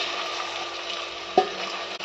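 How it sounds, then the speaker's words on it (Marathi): Mutton pieces mixed with spices dropped into hot oil over fried onions, giving a steady close sizzle with a brief sharp splash-crackle partway through. "आता ह्या तेलातच आपल्याला हे मिश्रण केलेलं मटण टाकून द्यायचे।"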